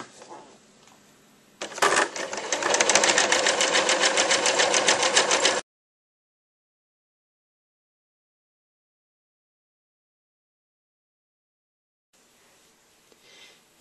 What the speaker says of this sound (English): I'm going to stitch all the way along this edge, making sure I catch my gold in my zigzag stitch